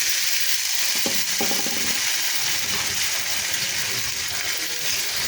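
Boiled red amaranth greens frying in a pan, a steady bright sizzle filling the clip with a few soft stirring clicks near the start, close and continuous with no talk.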